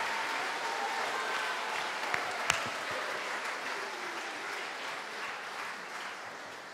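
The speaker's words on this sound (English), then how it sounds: "give us a round of applause for our guest judge" Broad, steady applause fills a school hall at a house haka competition as the crowd claps for a guest judge, staying even throughout with one or two sharper claps near the middle.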